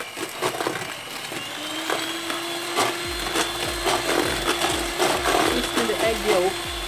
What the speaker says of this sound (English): So I'll take it to the whisking the batter, the sugar and the egg white.